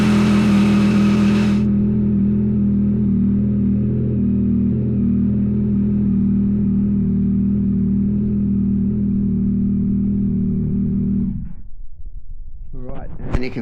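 A Yamaha XSR900 motorcycle engine idles steadily and loud up close after an O2 sensor replacement, holding an even droning hum before cutting off near the end, followed by a brief rustle.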